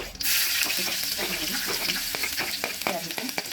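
Cumin and whole spices such as cardamom fry in hot oil for soya palav, a steady close crackling sizzle with scattered pops and a few stirring clinks throughout.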